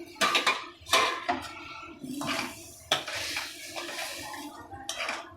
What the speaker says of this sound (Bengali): ঝোলটা ফুটে এসেছে, আমি এবার ডিমগুলো দিয়ে দেবো এর মধ্যে।